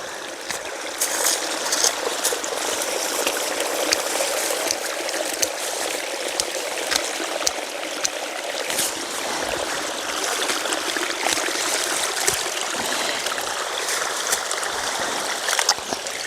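Water pours and trickles from the mouth of a small channel in a steady, close babbling stream, with bright splashing and occasional louder gurgles over a constant rushing flow.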